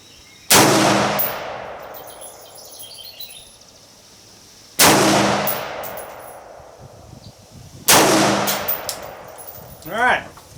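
Three loud, sharp rifle shots from a Colt SP1 with a bayonet attached, fired outdoors at a 100-yard target, spaced a few seconds apart, each with a rolling echo trailing off.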